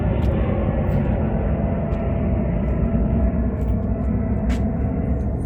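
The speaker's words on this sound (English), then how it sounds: "Man, that's a big old airplane," A loud, steady low rumble of a large jet passing low overhead near an airport, filling the whole clip with continuous engine roar.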